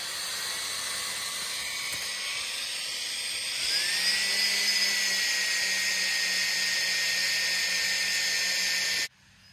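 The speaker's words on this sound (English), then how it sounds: "put it in your battery drill, put it on low speed, and then slowly just twist your wires and keep the tension on it" A battery drill running at low speed twists electrical wires into a twisted pair for an off-grid RV solar setup, a steady close high whir that rises slightly in pitch midway and then cuts off abruptly near the end.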